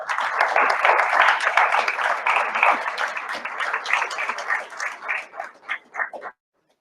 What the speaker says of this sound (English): So everybody please give a round of applause for Granddaughter Crow.